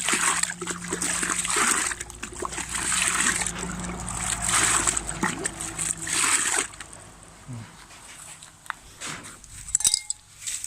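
A liquid mixing solution for homemade photosynthetic bacteria is poured into a container of water, splashing and sloshing unevenly for several seconds before trailing off into quiet drips and a few light clinks.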